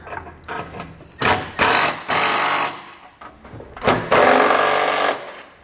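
An 11/16 inch deep well socket on a ratchet or driver snugs flange nuts while a Curt trailer hitch receiver is fitted to a 2020 Mazda MX-5 Miata, giving loud buzzing bursts of about a second each, close up with short gaps.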